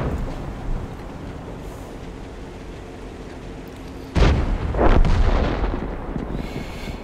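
Artillery fire in World of Tanks: a loud, close blast strikes suddenly after a stretch of low battlefield rumble, followed by a second heavy report and a rolling, decaying echo.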